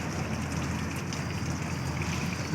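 A waterfall feature at an outdoor restaurant gives a steady, close rush of falling, splashing water, a continuous broadband wash with no breaks over about two and a half seconds and no one speaking.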